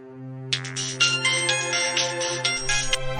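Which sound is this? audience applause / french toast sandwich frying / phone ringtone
phone ringtone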